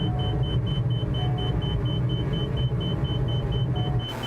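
Steady droning engine of an aircraft in a flight video game, flying low and under heavy throttle, a continuous loud rumble with a faint tone, no voices.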